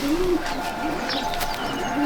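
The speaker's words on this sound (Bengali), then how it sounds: "এটা হচ্ছে মাদি পায়রা" A female pigeon in a loft gives soft, low, throaty coos, one at the start and another at the end, over a quiet background with faint rustling.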